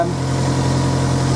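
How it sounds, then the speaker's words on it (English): A boat engine idles just after starting, a steady low rumbling drone with a regular throb, loud and close, continuing without interruption. "I've started the engine now"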